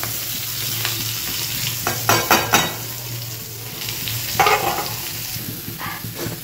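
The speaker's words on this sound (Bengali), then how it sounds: "এরপর পেঁয়াজটা দেওয়ার পর খুব বেশি ভাজবো না" Chopped onion and green chili frying in a pan, a steady close sizzle with a few louder bursts of spatter and stirring scrapes partway through, no voices.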